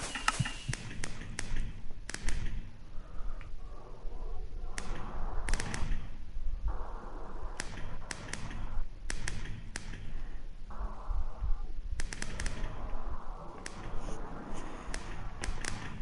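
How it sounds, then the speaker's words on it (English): Fireworks go off in a video game's creator world as a long run of sharp launch pops and crackling bursts, some clustered and some spaced apart, with brief quieter gaps in between. "so I'm gonna be shooting off my fireworks for a little while"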